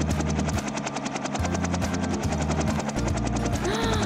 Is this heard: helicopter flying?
yes